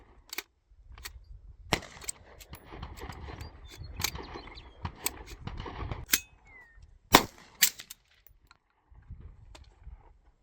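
Bear Creek Arsenal AR-15 rifle firing at an outdoor range, a string of sharp shots at irregular intervals, some single and some in quick pairs, with quieter handling noise and gaps between.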